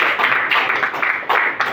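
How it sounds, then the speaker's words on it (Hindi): An audience claps together at an outdoor community event, a dense burst of applause that swells and dips in waves, close and fairly loud. "बहुत जोरदार तालियां आप सब बजाएं"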